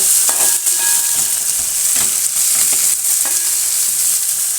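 Onion, green chili, curry leaves and coconut pieces fry in a pan with a steady, loud sizzle, interrupted by a few scraping stirs of a spoon against the pan.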